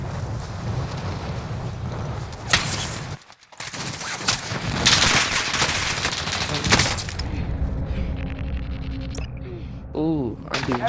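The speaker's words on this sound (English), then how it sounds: "I'm being shot at" Dense bursts of rapid gunfire in Call of Duty: Modern Warfare, loud and sustained with a brief gap, followed by quieter shots and game sounds toward the end, with a voice talking over parts of it.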